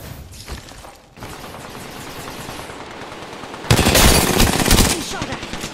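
Gunfire in the PC battle royale shooter Apex Legends, with rapid automatic bursts rattling close and loud, then a denser, louder volley near the end, over busy game ambience.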